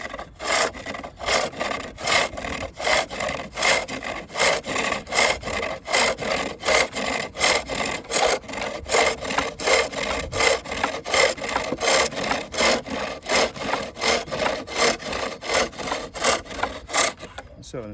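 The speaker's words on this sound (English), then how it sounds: "as the ball spins towards me, I take off a reciprocal shaving" A wooden ball spun on a pole lathe while a chisel takes off shavings, giving a steady rhythmic rasping scrape that repeats roughly twice per second with each stroke of the treadle, close and loud.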